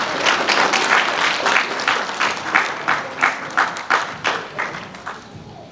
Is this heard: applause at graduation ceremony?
yes